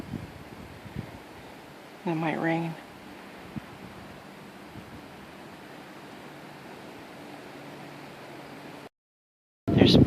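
Strong cold wind blows through a park, a low steady rushing noise under a voice, ending in a sudden loud gust after a brief dropout.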